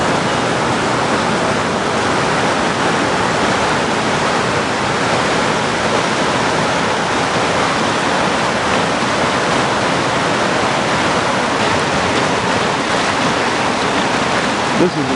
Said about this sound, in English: This is along the Big Thompson River